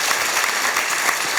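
Brief burst of applause from a university student audience at a political lecture, dense and even clapping filling the short moment with no break.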